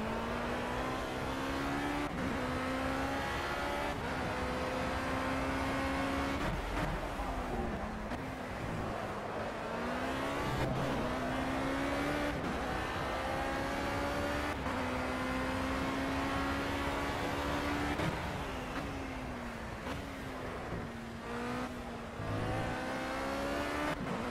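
A race car engine in the video game Project CARS drones steadily and loudly, rising in pitch under acceleration and dipping sharply at regular gear shifts or braking points, with no voices.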